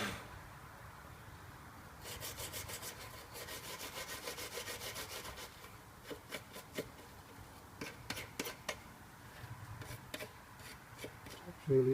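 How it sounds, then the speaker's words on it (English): A brake pad from a Citroen C2 1.1 front brake job is scrubbed against a piece of wood, giving rhythmic rasping strokes, steady at first, then in shorter scattered rubs, fairly quiet and close. "So turn it over, press it against the wood. Just good scrub."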